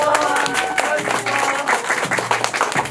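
A short round of audience clapping at a class session where people dance, loud and close, mixed with music and voices.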